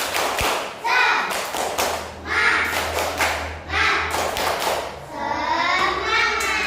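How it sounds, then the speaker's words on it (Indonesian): Rhythmic patterned clapping by schoolchildren in an Indonesian classroom, short bursts of claps with children's voices chanting along between them. "sebelumnya kita tepuk semangat dulu. Tepuk semangat"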